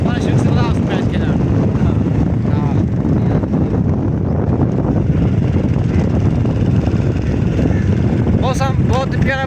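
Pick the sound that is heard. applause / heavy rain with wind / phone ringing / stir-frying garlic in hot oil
heavy rain with wind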